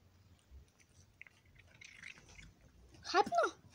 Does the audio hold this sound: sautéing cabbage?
no